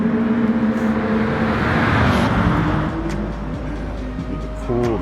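Steady car engine drone in Gran Turismo 7 with shifting pitch throughout, a continuous mechanical hum with a brief rising whine near the end.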